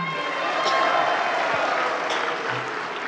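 An audience at a NasDem party event applauds and cheers in a dense, continuous roar of clapping that holds steady throughout.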